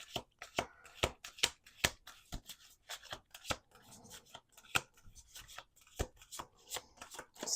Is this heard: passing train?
no